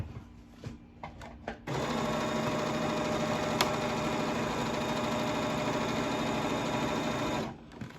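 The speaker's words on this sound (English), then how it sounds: "I'm going to double stitch it, and again, the outside edge of the strap is even with the foot" A sewing machine double-stitches a strap on a crash bag, a few short start-stop bursts giving way to one long steady whirring run of several seconds before stopping, close and alone.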